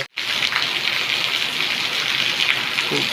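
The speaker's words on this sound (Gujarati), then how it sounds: "ખૂબ જ વરસાદ પડી રહ્યો છે" Heavy rain pours steadily in Dahod, a dense, loud, continuous hiss of downpour on surfaces that starts abruptly after a brief silent moment and holds at full strength throughout.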